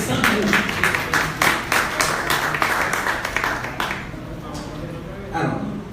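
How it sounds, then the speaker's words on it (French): Audience applause at a photography festival in Haiti for a text reader, a burst of clapping with distinct claps that thins out and fades toward the end, with a voice briefly underneath. "on demande d'applaudir le lecteur du texte"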